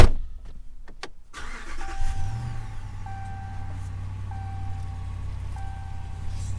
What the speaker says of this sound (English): I'm gonna go ahead and start the truck up.